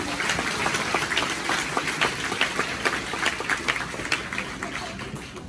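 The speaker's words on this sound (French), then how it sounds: "et je vous demande de les applaudir" Audience applause for the faculty at a graduation ceremony of the Université Chrétienne du Nord d'Haïti, sustained dense clapping from a large crowd with a steady, even level throughout.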